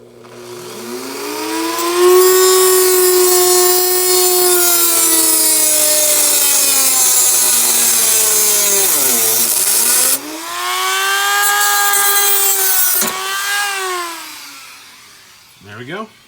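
A metal cable, an old splitter support cable on a vehicle, is sawn through by hand in a steady, continuous rasping stroke close by for about ten seconds, then again after a short break, with someone talking over it.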